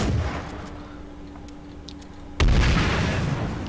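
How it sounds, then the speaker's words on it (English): An explosion goes off in the video game H1Z1, a sudden loud boom that breaks over quiet background noise and then rumbles on. "I stopped questioning explosions when Kiriko's around"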